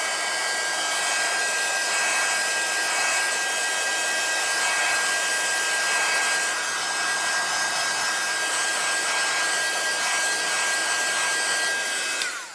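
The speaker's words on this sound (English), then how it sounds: "let's get the heat tool on this" A handheld craft heat tool blows hot air over a card background, giving a loud, steady whirring hiss that holds at an even level until it cuts off at the end.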